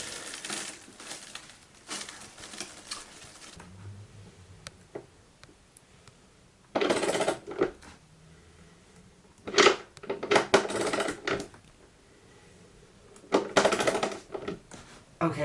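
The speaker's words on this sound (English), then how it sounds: "Okay, so that noise is me trying to undo some bolts here." Bolts being undone on the base of a Smaug dragon model from The Lord of the Rings, heard as close, intermittent bursts of metallic scraping, ticking and rattling separated by quieter stretches.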